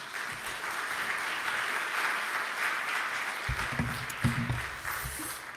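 A church congregation at a Sunday Methodist service claps steadily to welcome the senior pastor, a dense, even wash of applause from a large room that carries on for several seconds, with a few louder claps near the end.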